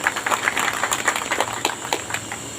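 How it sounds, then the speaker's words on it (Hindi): An audience claps loudly to welcome a member of parliament at a public event, a dense, continuous round of applause with sharp overlapping claps close by. "एक बार जोरदार ताली बजाकर अभिवादन करें।"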